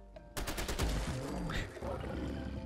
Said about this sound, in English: And in what I counted to be about 4 or 5 shots, that Deathclaw is down.